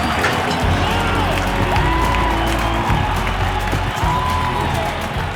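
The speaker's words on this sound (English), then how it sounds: "crowd's cheering" Rodeo crowd cheering and whooping during bareback horse riding, a loud, sustained roar of many voices with scattered shouts over rumbling arena noise.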